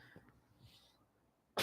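A single sudden, loud allergy sneeze bursts out at the very end, after a stretch of quiet room tone.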